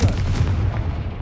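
A fiery blast spell goes off in a Harry Potter-style video game, a loud low boom with a rumbling tail that fills the short moment on its own, no voices over it.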